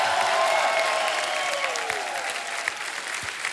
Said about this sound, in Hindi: हमारे सभी मेहमानों के लिए एक बार जोरदार तालियां हो जाए।